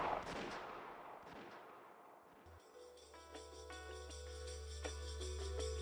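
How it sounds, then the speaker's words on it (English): A single gunshot sound effect in the Umineko visual novel game, a sharp burst early on that fades into a long ringing tone and layered music-like texture, heard alone without voices. "They certainly heard the crisp sound of gunfire ring out once."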